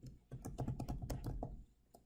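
Rapid, uneven keystrokes on a computer keyboard while an address is entered into time-tracking software, with clustered clicks close and clear throughout and no talking.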